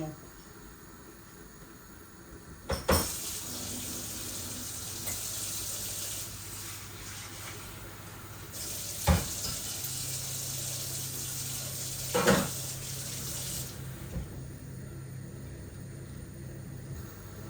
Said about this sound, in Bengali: তারপর আমি গরম পানি দিলাম।